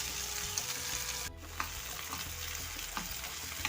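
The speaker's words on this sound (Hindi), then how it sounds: "ये हमारे मटर सौते हो रही हैं।" Peas sautéing in a pan for aloo matar keema hiss and sizzle steadily, with brief stirring clatters and scrapes, close and fairly quiet, no talk.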